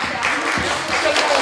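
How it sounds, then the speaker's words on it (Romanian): Applause from an audience at a stage performance in Cimislia, brisk clapping in a steady patter, moderately loud, with a voice faintly mixed in. "le datorez lor foarte multe aplauze"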